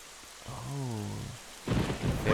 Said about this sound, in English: Just standing out here in the rain.